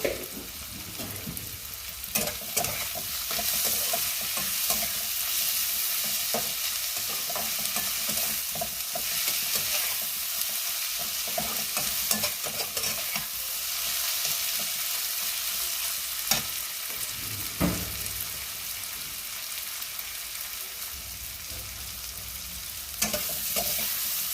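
Chopped onion with salt sizzling in a pan for chicken kosha while a spatula stirs it, giving a steady close crackle broken by frequent scraping strokes and occasional louder knocks against the pan.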